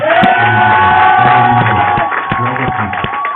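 A church congregation cheers and acclaims during a pastor's consecration service: a loud, sustained wash of massed voices with whoops and shouts, steady throughout with no pause.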